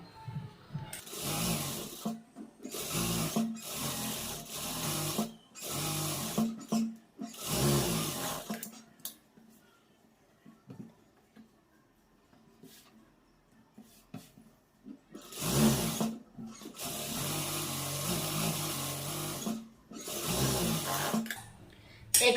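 A tailor's sewing machine runs in several short bursts of stitching through cloth, each a loud close rattle lasting a second or two, separated by quieter gaps.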